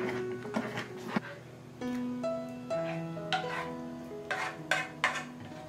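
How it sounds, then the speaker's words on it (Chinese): Batter of flour paste, red bean cooking water and milk being stirred in a bowl, a run of soft scraping and clinking strokes over steady background music. "再次给它搅均匀"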